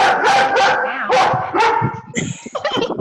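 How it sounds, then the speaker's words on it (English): A pet dog barks loudly and close by in a home, several rapid sharp barks followed by yips and whimpers, with some background talk mixed in. "My dog is barking."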